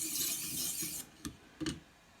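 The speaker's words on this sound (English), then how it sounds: "sharpening about a 4 to 5, maybe 6 inch length of the blade" Kitchen knife blade drawn over a clamp-held sharpening system: quiet, scratchy rasping strokes for about a second, then two short, separate strokes.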